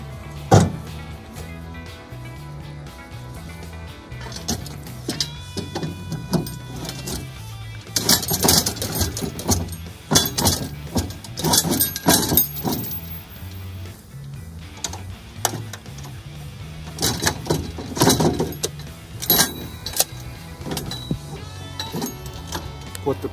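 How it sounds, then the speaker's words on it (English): Metal utility trailer slid back and flipped upside down during a yard wagon conversion, giving scattered clanks, knocks and scraping bangs, with denser clattering bursts through the middle, close and fairly loud. "Slide the trailer back, flip it upside down."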